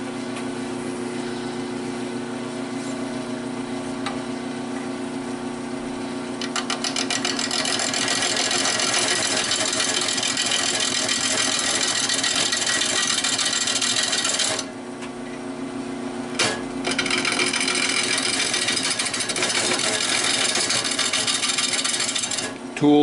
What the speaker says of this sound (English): now I got to go over it with emery cloth and get all this rust off